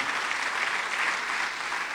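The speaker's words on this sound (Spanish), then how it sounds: "los hombres, denle palmas al Señor" Church congregation clapping in praise during a Spanish-language revival sermon, a steady, even roar of many hands that holds at constant level from start to finish, moderately distant and without speech.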